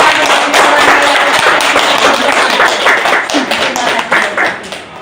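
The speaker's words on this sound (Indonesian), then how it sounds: "Tepuk tangan juga, tepuk tangan" An audience at a school dissemination session claps, with uneven, close individual claps and taps forming a loose, fairly loud round that thins toward the end.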